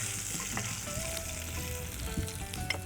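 Sliced ginger, split chillies and garlic sizzling in hot oil in a pan, a dense, even crackle with occasional light stirring taps, close up.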